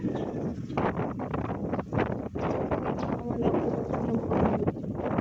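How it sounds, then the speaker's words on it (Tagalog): Strong typhoon wind (Typhoon Tino) in the early morning in the Philippines, roaring and buffeting the microphone continuously with gusty rustling, loud and close. "hanggang ngayon, mahangin pa"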